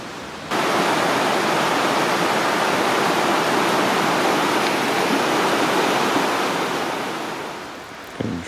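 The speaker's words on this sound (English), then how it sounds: "Drop down and explore this creek down here" Rushing water of Rock Creek in a forest near an old logging bridge, a dense continuous roar close by that starts suddenly and holds steady, easing slightly near the end, with no voices.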